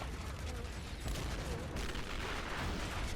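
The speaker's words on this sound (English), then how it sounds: "That sounds like a lot of machine guns." Dense machine gun fire and distant booms in a Civil War battle video game, a continuous crackling rattle of rapid shots throughout, moderately faint with no pauses.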